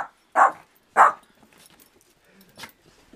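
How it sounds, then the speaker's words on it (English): A small dog gives two sharp, close barks followed by fainter yips and a later bark, with quiet gaps between them. "Wait, stop barking."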